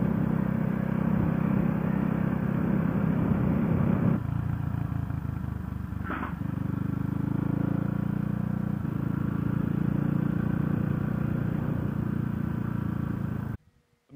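A CCM Spitfire motorcycle riding along a motorway out of the Manchester area, its engine droning steadily and loudly throughout with wind rumble, a brief sharper swell midway, cutting off abruptly near the end.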